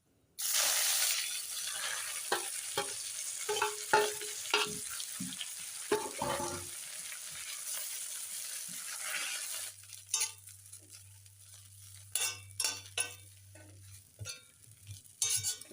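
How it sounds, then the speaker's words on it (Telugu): Gongura leaves dropped into hot oil left from frying chillies, a burst of crackling sizzle that settles into quieter frying with clinking and scraping stirs, then a low hum, no talking. "ఇప్పుడు ఇదే ఆయిల్లో గోంగూర వేసుకుందాం"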